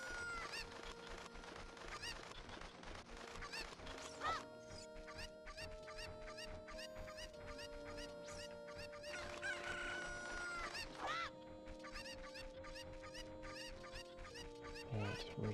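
Chickens (cuccos) in Zelda: Ocarina of Time cluck busily and crow in a dense, rapid flurry over steady background music, loud and close throughout, with no speech.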